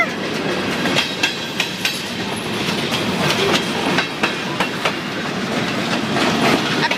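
A Canadian Pacific freight train rolls past at close range, loud steady rumble with rhythmic clickety-clack wheel beats on the rail joints throughout.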